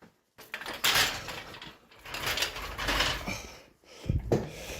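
A Williams Pitch & Bat pinball machine newly set on wheels rolling across the floor, a low rumbling roll in several pushes with short pauses and light rattles, close by with no talk.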